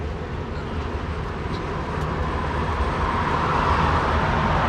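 Inside a 50-year-old Soviet Moskvitch 412 from the 1970s while driving, a steady broadband drone of engine, road and wind noise fills the cabin and grows slightly louder over the stretch, with no voices.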